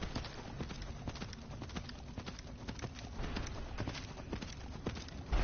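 Horse hooves clip-clop steadily in a quick, even rhythm on the mount Arvak in Skyrim Dawnguard, close and continuous over a faint background hum, with no talking.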